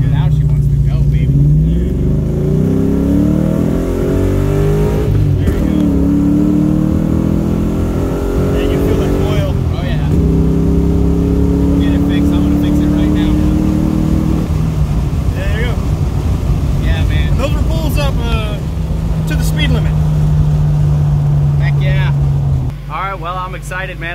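A 1999 Ford Mustang with a 4.6-litre two-valve V8 and basic bolt-ons runs on a dyno, its engine note sweeping up and down through several loud revs with wind-like noise over the microphone before settling near the end.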